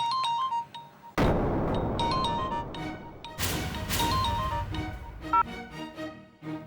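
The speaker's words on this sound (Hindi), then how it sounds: "किसका फ़ोन था?" A phone ringing, a repeating electronic tone pattern heard under loud crashing dramatic music stings, fairly close and persistent.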